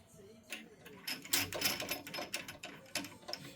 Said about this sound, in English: going to start by using our 1/4-inch reamer and just putting in the drill press. We're running at 380 RPM